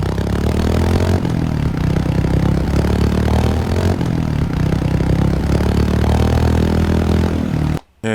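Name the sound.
Royal Enfield Hunter 350 motorcycle exhaust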